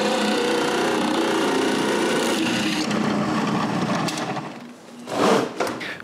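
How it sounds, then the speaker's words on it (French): A drill bores through plywood to finish a hole, a continuous grinding whir that softens and dips near the end before a brief final surge. "Je tourne le contreplaqué et je finis le trou."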